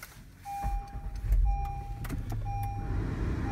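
A car with ASpec trim starting up: a repeating electronic chime sounds over a low rumble that swells as the engine catches and then settles into a steady idle.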